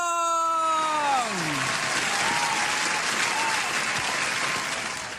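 A church congregation cheers and applauds at a worship service, a dense, loud wash of clapping and voices that holds steady throughout, with a few rising and falling whoops near the start.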